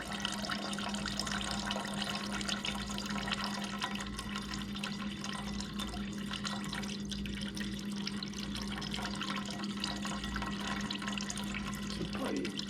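Used coolant drains out of a KTM SX / Husqvarna TC 50 minibike engine, a steady close splashing and trickling stream over a low constant hum, with no one speaking.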